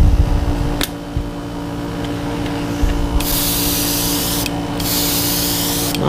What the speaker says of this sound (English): Single layer sprays over the whole bait, soften that up.